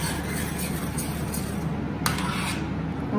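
Pasta sauce with salt and black pepper being stirred in a pan, making repeated close scraping and rubbing strokes over a steady background hum, with one brief sharp metallic clink near the end.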